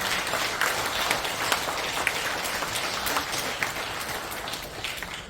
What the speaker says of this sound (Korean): 뜨거운 박수 부탁드립니다